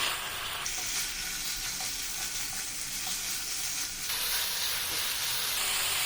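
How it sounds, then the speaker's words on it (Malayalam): Boneless chicken sautéing on a high flame for a creamy chicken dish, a loud, steady hissing sizzle throughout with faint stirring, close up and without talk. "ഈ കഴുകി വൃത്തിയാക്കി വെച്ചിരിക്കുന്ന ബോൺലെസ് ചിക്കൻ ചേർത്ത് കൊടുക്കാം അതിനുശേഷം രണ്ട് മിനിറ്റ് നമുക്ക് ഹൈ ഫ്ലെയിമിൽ ഒന്ന് വഴറ്റി കൊടുക്കാം"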